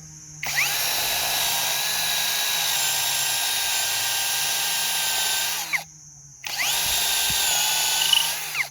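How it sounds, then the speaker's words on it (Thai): A Tanzu TZ-Z-80MT cordless drill bores into wood roughly six to seven inches thick, its loud close whine running steadily, stopping briefly, then starting up again. "เจาะไม้ที่หนาประมาณ 6-7ถึง นิ้วนะครับ เดี๋ยว เริ่มมาเลย"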